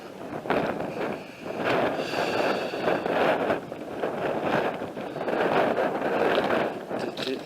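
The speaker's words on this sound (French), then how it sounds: "un vent de fou. Ça va souffler dans les machines." A strong gust buffets the microphone near coastal bunkers, producing a rough, low rumbling roar that surges and eases over several seconds with no clear voices.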